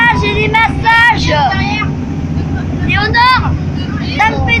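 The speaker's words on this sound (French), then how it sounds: "il a mis les turbines à fond." Motorboat engines pushed to full throttle on a fast run around Fort Boyard, a loud steady roar with wind and splashing throughout, while people talk excitedly over it.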